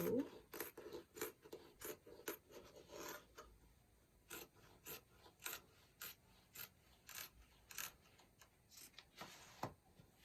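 Scissors cutting shirt fabric for a men's corporate shirt, a faint, close series of regular crisp snips roughly every half second, with some soft rubbing between cuts.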